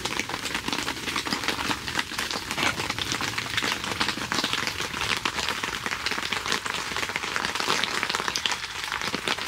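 Heavy downpour drums steadily on a camping tent during a solo camping trip, a dense constant patter of drops all around, with no voices.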